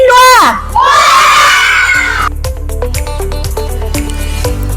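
Children in a classroom shout together in a loud burst of rising and falling voices, then settle into a din of crowd noise with scattered clacks and thumps, all close and energetic.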